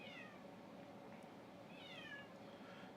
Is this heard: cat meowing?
yes